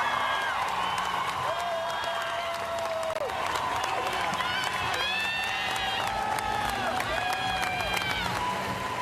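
A crowd at the WNBA draft applauds steadily, a dense, continuous patter of clapping with cheers mixed in, while several voices talk over it throughout.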